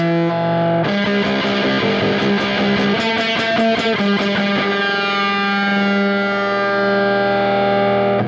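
An electric guitar plays through an effect pedal turned all the way up, producing a loud, distorted, squelchy wash with rapid strummed pulses that settle into a sustained, howling drone, close and continuous.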